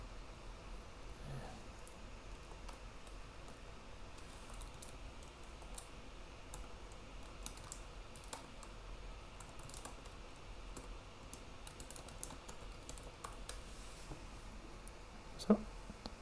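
Iptables commands typed on a computer keyboard, heard as quiet, irregular key clicks over faint background hiss, with one louder click near the end.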